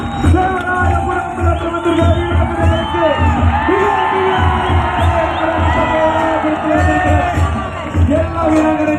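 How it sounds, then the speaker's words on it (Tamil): A large crowd cheers, whoops and shouts continuously for a team from Dakshina Kannada arriving at a village sports festival, loud and dense throughout with scattered individual yells rising above the roar. "ಬನ್ನಿ ಜೋರಾದ ಚಪ್ಪಾಳೆ ದಕ್ಷಿಣ ಕನ್ನಡದ ಮಡಗನಾಡಿಗೆ"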